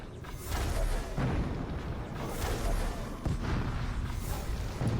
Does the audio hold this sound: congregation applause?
no